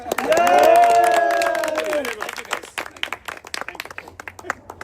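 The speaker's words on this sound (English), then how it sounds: "Big round of applause to the original ball breaker." Audience applause at an annual award ceremony, a brief burst of clapping from a crowd that starts under a loud amplified voice and continues as scattered, fading claps.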